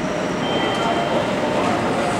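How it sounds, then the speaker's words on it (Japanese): A Meitetsu μSKY limited express train arrives at platform 4 of Kanayama station, its steady, loud rumble of rolling wheels filling the platform, while a station announcement plays over it. "電車は24分発、全車特別車のミュースカイ中部国際空港行きです。"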